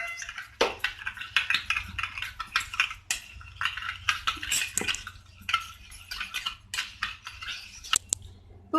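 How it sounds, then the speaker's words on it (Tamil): A spoon stirs coffee powder, sugar and a little hot water in a cup, giving a close run of quick, irregular metallic clinks and scrapes with no talking. "இதை நல்லா மிக்ஸ் பண்ணிக்கலாம்."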